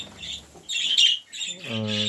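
Birds being readied for spring give out a few short, harsh squawks and chirps close by, in brief bursts with gaps between them.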